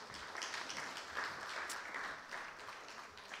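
An audience at a conference event breaks into soft, steady applause, a dense and distant wash of clapping with no clear individual claps, faint throughout.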